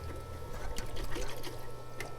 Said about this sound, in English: So we're going to wash the roots a little bit.